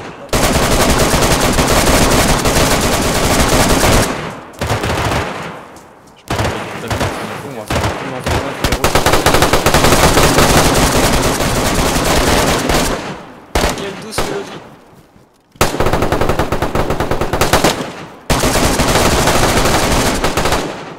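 Rapid, loud automatic gunfire rattles in long bursts in the survival game DayZ, broken by a few short pauses, dense and close throughout.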